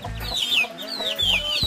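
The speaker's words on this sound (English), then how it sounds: "Oh, the little baby chickens." Chickens on a farm in Belize cluck close by in quick, uneven bursts, several birds calling over one another in a short lively stretch.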